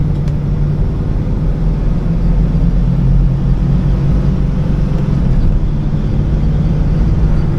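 A 1967 model car being driven, its steady low engine rumble and road noise continuous and fairly loud from inside the cabin, with no talking.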